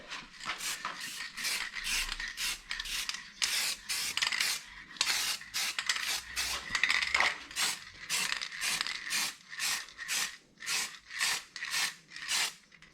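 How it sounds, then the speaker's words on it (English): An aerosol can sprays black paint-and-primer onto headliner bow clips for a 1951 Chevy, in a quick series of short rhythmic hissing bursts, close and fairly quiet, with no talking. "going to give these a little bit of a squirt, just with some black, and it's paint and prime"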